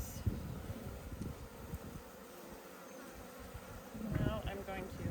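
Honeybees buzzing as they are brushed off a frame into a new hive, a close, steady drone with a few brief brushing bumps and rising whines near the end.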